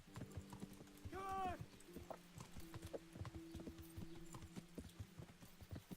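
Horse hooves clip-clop in the medieval video game Kingdom Come, a steady close sequence of clopping steps with a short whinny early on and a faint low background drone.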